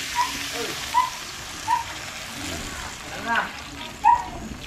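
Water poured into a cooking pot, with a handful of short splashing bursts at fairly even intervals over a steady wet background, close by.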